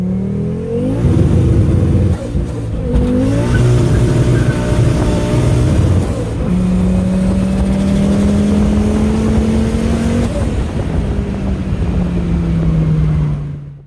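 A 592 hp turbocharged Fiat Marea Weekend engine revs hard on a chassis dynamometer, climbing through the gears in long, loud, sustained pulls before cutting off at the end.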